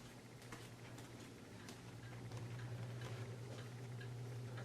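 A Maytag washing machine on its final spin cycle, heard from a distance as a steady low hum with a faint rattle running through it.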